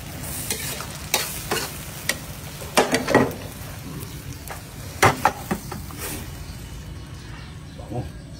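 Eggs and vegetables frying in a pan for a breakfast dish, a continuous sizzle broken by repeated scraping stirs and a few louder clanks of the utensil against the pan.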